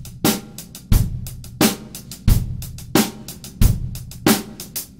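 A drum kit plays a groove with a three-note hi-hat figure of one eighth note and two sixteenths, tapped with the stick tip over kick and snare in a steady repeating loop.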